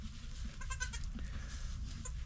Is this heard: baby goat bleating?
yes